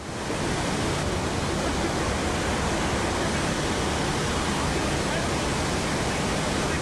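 Steady, loud roar of waterfalls on a film set, a dense broadband wash of falling water that fills the whole stretch without a break, close and overwhelming.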